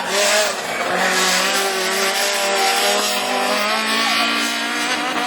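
A blue Peugeot 206 Super 1600 rallycross car races on a Mayenne circuit, its engine screaming loudly and steadily near the listener with shifting pitch and a hint of tyre squeal.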